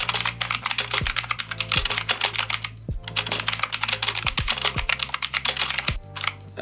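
Fast typing on a BestOff MK15 RGB mechanical gaming keyboard during a speed test, a dense, continuous clatter of close key clicks with a few heavier thocks and one brief pause.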